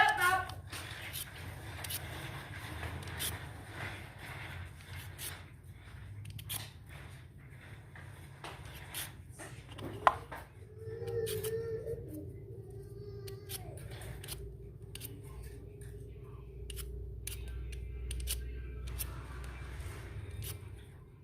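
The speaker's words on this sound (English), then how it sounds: "So now I'm cutting the potatoes into thin slices." Soft repeated knife cuts slicing potatoes thinly in a home kitchen, scattered taps over a steady background hum, with a brief sharp click midway.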